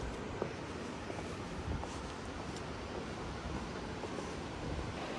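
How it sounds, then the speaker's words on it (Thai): Steady broadband rushing of a waterfall in the mountains of Shizuoka, Japan, falling into green water below, a constant roar without pauses, heard from some distance. "ก็จะมองเห็นน้ำเขียว ข้างล่างแล้วก็เสียงน้ำตก"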